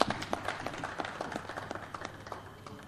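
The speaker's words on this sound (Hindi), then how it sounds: "उनके लिए भरपूर तालियां" An audience applauds at a TV opening ceremony for a film, with a patter of clapping that starts strongest and thins out over a few seconds at moderate volume.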